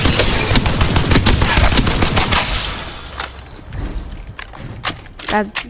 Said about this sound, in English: Okay, so you rev it up. Now it does 29 damage and it goes fast.